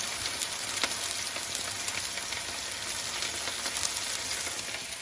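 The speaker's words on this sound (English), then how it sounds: "I'm going to go ahead and let these go ahead and brown." Pork chops browning in a hot pan, a steady close sizzle of frying with faint crackles and pops throughout, no talking.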